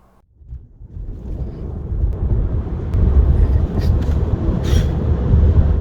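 A low rushing roar builds steadily as a Tesla electric car gathers speed toward highway speeds, mostly broadband wind noise with no engine note.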